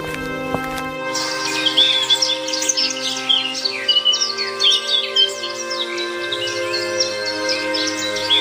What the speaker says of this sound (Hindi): पंछियों की चहचहाहट सेठ के कानों पर पड़ी।